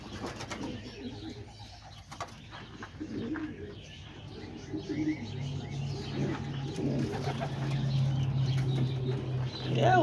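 Pigeons coo softly and steadily in a breeding loft, layered low murmurs with occasional chirps and a faint wing flutter, no talking.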